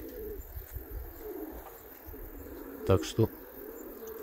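Pigeons coo softly in the open air amid faint bird chirps, with two louder low calls close together near the end and a brief spoken comment.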